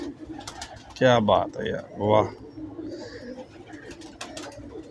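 Two close, loud bursts of cooing from Lakwe-breed pigeons, with someone talking admiringly between and around them and softer bird sounds trailing after.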